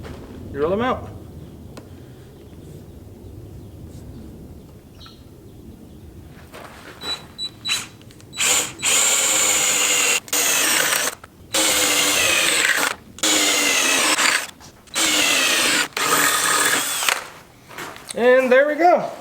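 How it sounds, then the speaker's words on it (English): A power drill whirs loudly in several long bursts, stopping and starting as holes are bored in metal parts of a Husqvarna weed eater, with a voice briefly heard at the start. "And drill them out."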